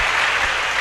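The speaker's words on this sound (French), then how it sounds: "Applaudissez bon Dieu pour ça." A church congregation bursts into dense, sustained applause, loud and close, filling the whole short moment without pause.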